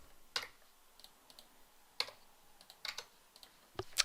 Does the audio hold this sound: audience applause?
no